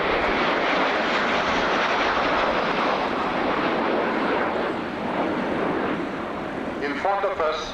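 Display jet manoeuvring hard at the RAF Scampton airshow, a loud, close roar of engine noise sweeping across the sky, with a voice talking briefly near the end.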